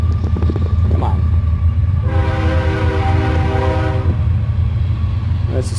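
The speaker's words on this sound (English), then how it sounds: "And of course the train's going by right now." A passing train sounds a loud, sustained horn blast of about two seconds over a steady rumble of the cars rolling by.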